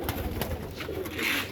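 A pet pigeon gives a brief, soft, low cooing call close by, lasting only a moment, with no talking.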